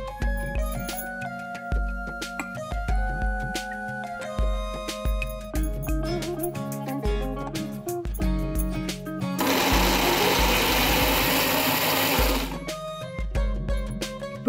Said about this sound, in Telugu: వీటిని మిక్సీలో గ్రైండ్ చేసుకుందాం